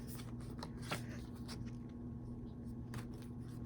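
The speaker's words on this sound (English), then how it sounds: "Let's say very easy to shuffle." Rapid riffling of a deck of oracle cards, crisp fluttering bursts repeated several times close by over a low steady hum.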